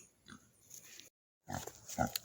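A pig grunts and snuffles close by in short bursts, with a brief silent gap before more grunting.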